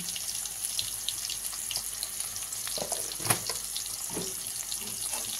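Spices sautéing with turmeric powder and salt in a pan for a rohu fish curry with pumpkin greens, giving a faint, steady sizzle with a few soft clinks and stirring sounds.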